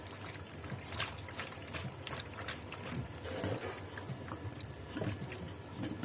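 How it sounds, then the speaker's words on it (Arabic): Oil, a third of a cup, pours into mini pizza dough, giving a steady, close liquid trickle with soft splashy texture throughout. "وهنا تلت كوباية زيت ننزل عليها اهو"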